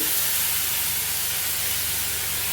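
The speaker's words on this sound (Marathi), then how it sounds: "आलं लसूण पेस्ट पण फ्राय करून घ्यायची आहे" Ginger garlic paste sizzling in hot oil in a pan, a steady close hiss of frying with no pauses and no voices.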